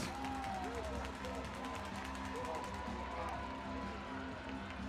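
Hockey crowd at Hirsch Coliseum during an NAHL game, a steady roar of cheering and clapping from a packed arena, with an announcer talking over it.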